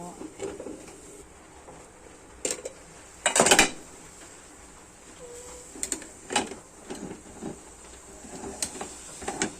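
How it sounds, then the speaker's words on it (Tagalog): A slippery cooking pot clatters and knocks as it is handled and covered for steaming, giving several sharp metallic clanks with one louder burst of rattling amid quieter kitchen handling noise. "Ang likot talaga ng kaldero na ito"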